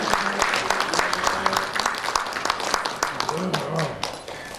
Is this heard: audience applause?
yes